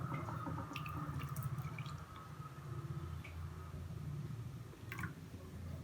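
Cooled custard pudding mix being poured into a bowl lined with caramel: soft, wet dripping and squishing liquid sounds, close and fairly quiet, with a few brief splashy drips.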